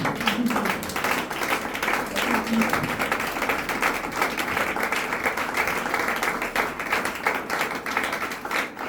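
A church congregation applauds and cheers for about nine seconds. Dense, steady clapping is joined by scattered voices and shouts throughout.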